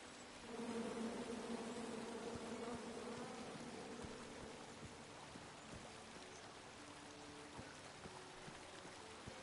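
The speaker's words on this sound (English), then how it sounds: "Come at me, bees!" A swarm of bees buzzes in the video game King's Quest, a steady droning hum that swells early and then holds at moderate level, with a faint wash like running water beneath it.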